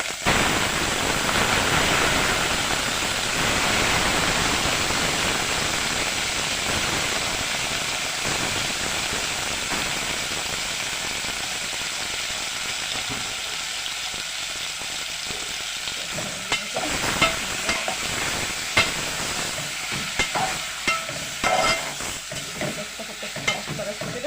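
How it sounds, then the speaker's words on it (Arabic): Meat drops into melted fat in a hot pan and erupts in a loud, dense sizzle. The sizzle gradually settles, then utensils scrape and clatter intermittently over the continuing hiss. "ننزل بقى دلوقتي باللحمه عشان تتشوح."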